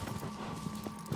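A horse's hooves clip-clop at a steady gallop in the video game Shadow of the Colossus, the quick rhythmic beats quiet but clear.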